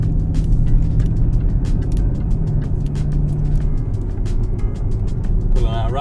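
A Jaguar car pulls out of a roundabout in automatic, its engine note a steady low drone with road rumble throughout, close and continuous, with a faint rattling knock near the end.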